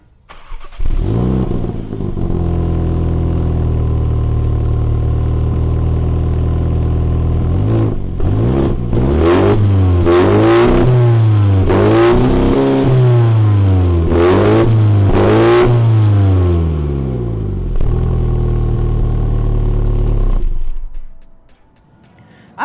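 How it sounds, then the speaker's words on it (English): Sporty exhaust of a 2024 Mini John Cooper Works 1to6 Edition with manual gearbox, starting up then revving loudly in repeated rising and falling blips before settling and cutting off, close and alone. "This being the John Cooper Works edition, of course it also has a sporty exhaust."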